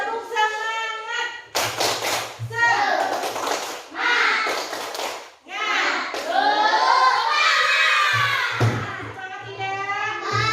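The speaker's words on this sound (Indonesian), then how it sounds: "Tepuk semangat." Schoolchildren in a classroom perform a rhythmic group clapping chant, with bursts of sharp unison claps between loud children's voices calling out together.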